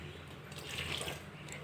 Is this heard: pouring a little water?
yes